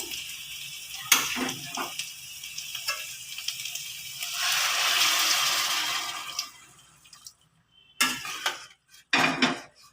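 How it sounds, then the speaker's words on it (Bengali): Hot water is poured into a pot of chicken and potatoes browned in oil for a one-pot chicken rice. Metal pot clatters come first, then a rushing pour and sizzle that swells and fades, followed by a few clanks. "এবার আমরা এখানে গরম জল দেবো একটু চিকেন আর আলু সিদ্ধ হওয়ার জন্যে"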